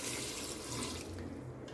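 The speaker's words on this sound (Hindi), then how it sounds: "2 गिलास पानी डाल दूँगी" Water pours from a glass into a pressure cooker holding chickpeas, turmeric and salt, a short, close, steady splashing stream that thins out toward the end.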